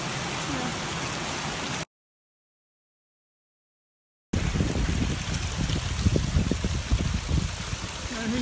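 A river crossed on a hill walk near Kinder Scout rushes steadily and loudly close by, a broad continuous wash of flowing water broken by a short silent gap, with a touch of wind.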